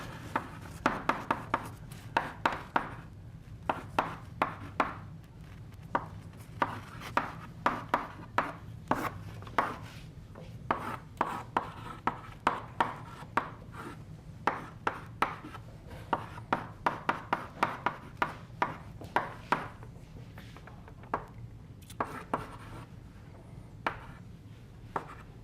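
Chalk or marker writing on a board during a physics lecture, a steady series of sharp taps and short scratchy strokes across the whole stretch, fairly close, with no talking over it.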